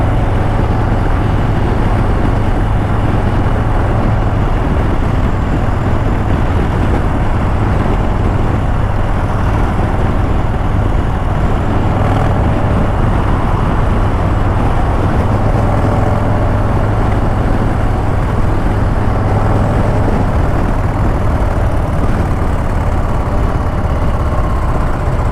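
A Harley-Davidson Low Rider ST motorcycle is ridden down an open road, its engine making a steady, loud, low rumble that lasts throughout with no talk.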